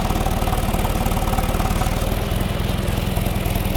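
A tractor engine runs steadily at a close, loud, rhythmic chug while dumping a load, with no talking.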